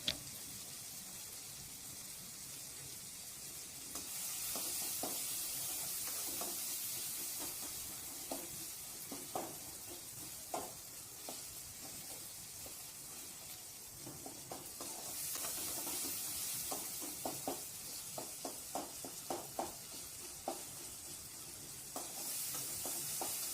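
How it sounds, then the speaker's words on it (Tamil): Tomatoes and onions sautéing in a pan for paruppu sambar, a steady low sizzle with occasional scraping stirs of a spoon, fairly faint and without voices. "கண்டிப்பாக தக்காளி வெங்காயத்தை நல்லா வதக்கணும் எப்பயுமே"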